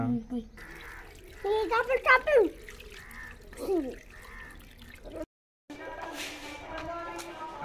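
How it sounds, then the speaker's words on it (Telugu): Salt water is poured over fish, a soft splashing and dribbling heard in bursts beneath nearby voices talking. "నీళ్ళు పోసేది దాని మీద ఇప్పుడు."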